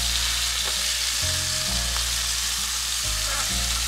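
Meat cooking over a campsite stove sizzles and spits loudly and steadily, a dense frying hiss with faint clinks of utensils and no talk.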